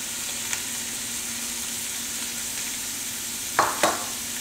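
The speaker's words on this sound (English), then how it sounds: "we're going to add our mirepoix, which is our chopped carrots, chopped onion" Chopped carrots, onion and celery sautéing in a pot for stock, a steady close sizzle with a few brief stirring scrapes near the end.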